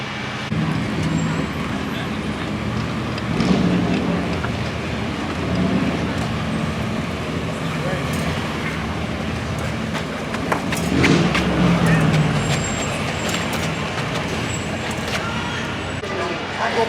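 Classic cars drive back into the paddock at Laguna during Car Week, a steady mix of engines and traffic rumble with occasional louder passes, voices talking over it.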